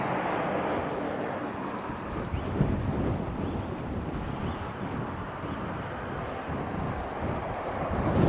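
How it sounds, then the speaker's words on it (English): Gusty wind buffets the microphone in a back street of Cairns, Australia, a steady broadband roar with rumbling swells that rises slightly toward the end, no voices over it. "Wow, it's quite windy."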